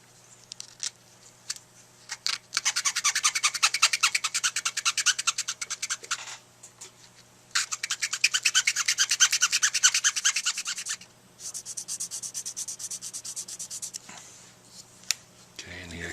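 Fine 320-grit sandpaper rubs rapidly over a chipped tip, coming in long bursts of quick rasping back-and-forth strokes separated by short pauses, close and crisp.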